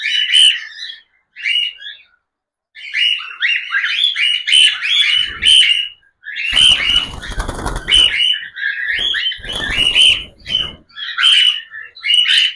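A three-month-old baby cockatiel squawks repeatedly while being held, harsh bursts in quick succession with short pauses, plus a few brief wing flaps or handling rustles, close and loud.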